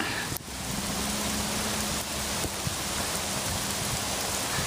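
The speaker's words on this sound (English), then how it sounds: "That's a sleet." Sleet falling steadily outdoors in a park during a disc golf round, a constant broadband hiss of icy pellets with one sharp tap near the start and no talk.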